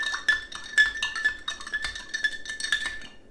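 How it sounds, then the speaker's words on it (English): A spoon stirs pickling liquid in a glass jar, making a quick series of close, bright clinks against the glass in an irregular rhythm, with no talk. "Give it a stir."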